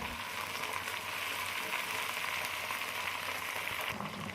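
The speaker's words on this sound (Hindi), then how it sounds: "अब मैं पहले इसको हल्का सा फ्राई करूँगी" Okra (lady finger) lightly frying in oil in a pan for a bhindi chicken dish, a steady close crackling sizzle with faint pops and occasional stirring, even and continuous.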